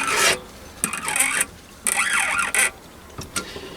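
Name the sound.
tap turned by hand cutting thread in brass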